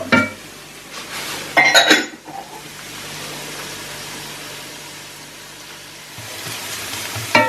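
Finely chopped onions sizzle in a pan as the base for a mushroom risotto, a steady, close hiss of frying broken by a few brief clatters of stirring.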